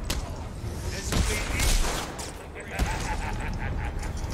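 Gunfire from a gunman in the video game Batman: Arkham City, a few sharp shots amid a dense, noisy rumble of game action, with voices talking over it.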